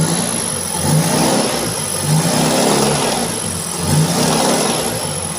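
A Toyota Corolla Twincam engine with a fuel-rich, rough-running carburetor is revved repeatedly during carburetor tuning, loud and close, rising and easing in waves over a steady running drone.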